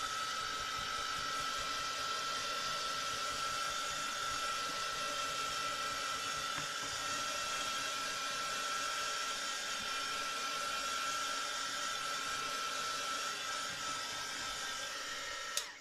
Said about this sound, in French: Un petit coup de heat gun. Pas trop près.